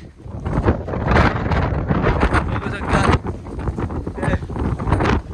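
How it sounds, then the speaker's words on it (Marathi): Strong wind buffets the microphone in loud, continuous gusts on a hilltop fort climb, with a voice speaking briefly over the roar. "वारा खूपच जोराने आहे"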